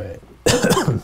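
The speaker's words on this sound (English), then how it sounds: "I should hit my mute button if I'm going to cough" A single sharp cough bursts out close to the microphone after a moment of quiet, rough and throaty, fading with a brief rasp.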